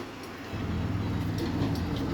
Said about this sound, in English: Here comes their little train.